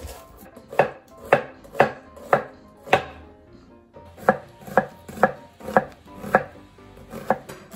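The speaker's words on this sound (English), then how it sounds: "I'm gonna slice 1 onion." A knife slices an onion on a cutting board for oyakodon, making about fifteen evenly spaced, crisp chopping thuds with a brief pause midway. There is no talk.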